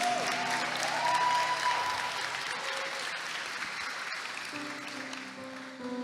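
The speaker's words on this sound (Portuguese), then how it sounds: "Você pode dar um beijo na sua Bíblia e aplaudir bem forte o nome de Jesus." Conference audience at a Christian worship event applauds loudly for about six seconds, a dense sustained clatter of many hands with faint sustained musical tones underneath.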